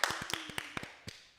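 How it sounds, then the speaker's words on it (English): A small studio audience claps briefly in a quick, sparse run of about a dozen sharp claps that thin out and fade within a second. "Can we please clap it up in the studio for Eric Calligraphy"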